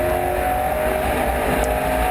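A Holden Commodore race car at a Morgan Park improved production round holds a steady, loud engine drone at full speed down the straight, with no gear changes or voices.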